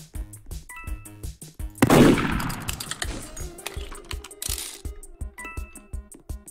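Gunfire from the Roblox game Murder Mystery 2 sounds as sharp, clanging shots scattered through a busy stretch of game sounds, with one louder blast near the start, close and fairly loud.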